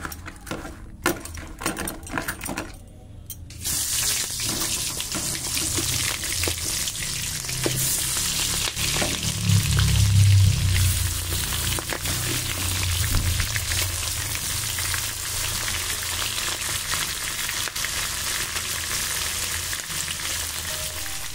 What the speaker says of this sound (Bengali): মাখিয়ে আমি চিংড়ি মাছটা ভেজে নেব।